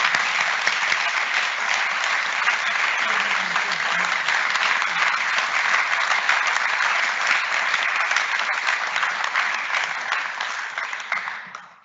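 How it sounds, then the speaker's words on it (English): A large audience at a school speech day claps in a dense, sustained round of applause that stays loud and even, then tapers off at the end with no voices over it. "Could you give him a round of applause, please?"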